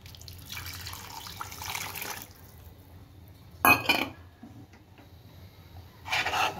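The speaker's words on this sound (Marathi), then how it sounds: "आता मी हे उकडून घेतलेलं आहे पाणी ना ते टाकून घेते।" Boiled vegetable water poured into a pav bhaji pan in a home kitchen, coming as a few short splashing pours with quiet pauses between them.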